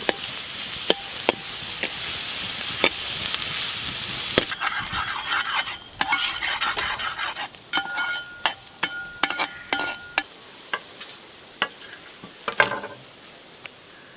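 Onions frying in a large pan for a big batch of Kerala beef curry, with a dense sizzle at first, then repeated sharp scrapes and clinks of a spoon stirring against the metal pan, close and alone.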